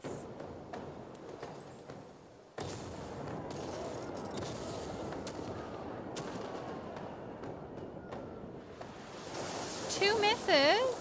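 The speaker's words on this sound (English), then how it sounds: "I'm gonna fire the cannons." Ship cannons fire during a naval battle in the video game Pillars of Eternity 2: Deadfire, heavy booming blasts over rumbling battle noise, ending with swelling tonal game sounds.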